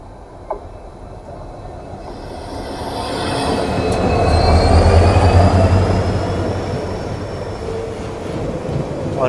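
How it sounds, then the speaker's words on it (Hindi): A diesel passenger train hauled by an EMD WDP4D locomotive on an Indian Railways route, rumbling past in a steady roar that swells to a peak midway and then holds, with faint wheel squeals and clatter. "और ये भी कोई पैसेंजर ट्रेन है"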